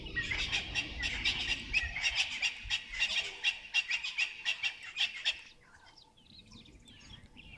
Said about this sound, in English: nice to hear those Natal spurfowl.